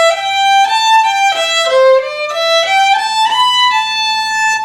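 Fiddle playing the second half of the old-time tune Old Melinda in short chunks, a steady run of bowed notes rising and falling, close and bright with no talk.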